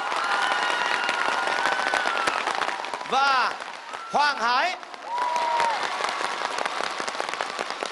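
Applause from the audience at a Vietnamese singing competition final, a broadband clatter running under an announcer's voice throughout, with music and sung notes rising briefly in the middle.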